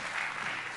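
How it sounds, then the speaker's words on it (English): Brief burst of congregation applause in a church, dense even clapping from a crowd heard in a short span without talking. "Give them all a round of applause, will you?"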